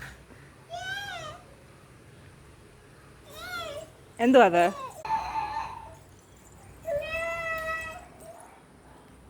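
A cat meows several times in a home: two short calls early, a sharp louder cry in the middle and a longer meow near the end, with people talking close by.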